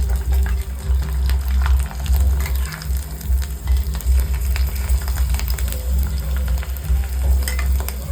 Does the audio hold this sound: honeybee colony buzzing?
no